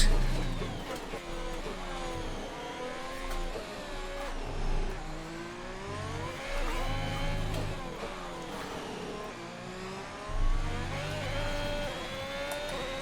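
F1 car engine in the F1 2021 racing game at the Mexican Grand Prix, revving hard under throttle with rising and falling pitch through gear changes, a continuous close whine with brief drops between shifts.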